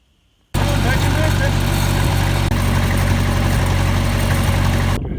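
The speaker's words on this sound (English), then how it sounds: "This tractor's always been hard to start when it's hot." A farm tractor that is hard to start when hot fires up abruptly and settles into a loud, steady idle close by, with a person talking over the engine.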